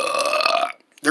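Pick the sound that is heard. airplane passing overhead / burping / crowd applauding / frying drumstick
burping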